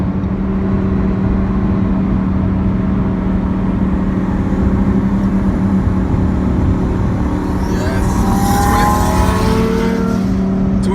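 A turbocharged 1,000-horsepower car engine drones steadily on a busy freeway, loud and continuous with a low rumbling hum, and the engine note climbs slightly near the end.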